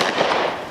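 A shotgun blast from pigeon hunting, one loud, close burst that fills the short moment and ends with a sharp crack at the very end.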